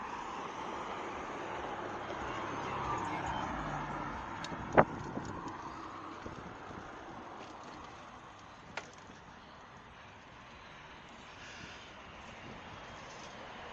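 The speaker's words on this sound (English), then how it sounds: "wait till these cars go by" Cars passing on a street beside Lake Ivanhoe, a faint, distant wash of traffic noise rising and fading, broken by a couple of brief sharp clicks, heard from a roadside without voices.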